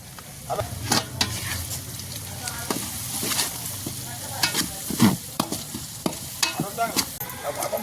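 Tomato and chili powder frying for chicken masala in a pan over a wood-fired stove, with a steady close sizzle and repeated scraping stirs of a spoon throughout.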